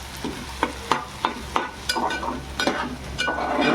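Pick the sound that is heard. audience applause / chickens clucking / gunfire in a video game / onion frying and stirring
onion frying and stirring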